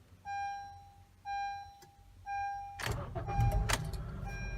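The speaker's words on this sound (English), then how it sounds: "I'm driving the 2012 Honda CR-V Bossmaster 99." A 2012 Honda CR-V gives three evenly spaced electronic chime beeps, then its engine starts and settles into a loud, close idle with rumbling cabin noise.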